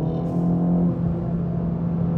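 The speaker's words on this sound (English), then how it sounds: "Getting into second gear." A 2024 Acura Integra Type S engine revving in second gear, a loud steady humming drone with a strong low tone heard from inside the car, briefly shifting pitch partway through, with no talking.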